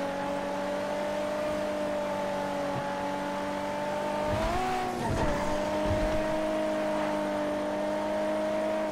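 A car in the GTA V video game drives at a steady engine drone with a constant, even hum, briefly rising and shifting in pitch midway as the vehicle turns or changes speed, then settling back into its steady tone.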